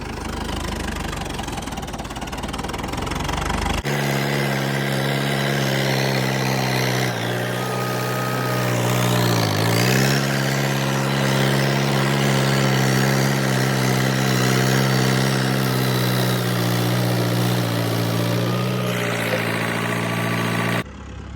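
A farm tractor on a horse property runs steadily nearby, its engine droning loudly at idle with a revving swell partway through and a knocking low rumble throughout.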